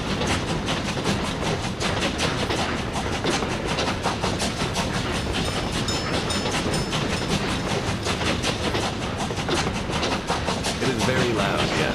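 Trains run on a railway in the Workers and Resources video game, giving a loud, steady rumble with continuous clickety-clack wheel noise that lasts throughout and has no talking over it.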